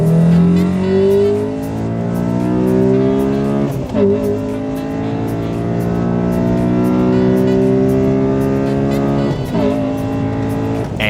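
A Honda Accord Euro R running a KFlash ECU tune accelerates hard, its engine note climbing through steady rising harmonics. Two brief dips mark gear changes before it pulls again, loud and close with no voices.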